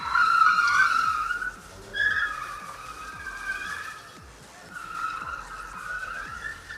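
Race car tires skid and squeal in repeated bursts as a driver runs a timed obstacle course at APMC 2025, with the engine droning underneath and no talking.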